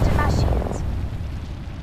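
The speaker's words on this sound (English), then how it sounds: "Throwing thermite grenade" A thermite grenade ignites with a rough, fiery burst in Apex Legends, the broadband roar loudest at first and then thinning into a steady hiss, with a voice heard briefly near the start.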